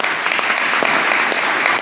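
A church congregation at Holy Mass for the Feast of the Holy Family at St. Joseph's Parish breaks into loud, dense applause, with many hands clapping together.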